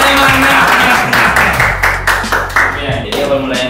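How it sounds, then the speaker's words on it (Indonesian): A small crowd claps in a lively, uneven burst that fades and then surges again, with voices murmuring and calling out underneath. "tepuk tangannya mana?"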